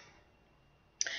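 A single crisp computer mouse click sounds near the end of a faint, quiet stretch during a screen recording of setting up a GoDaddy domain with Weebly.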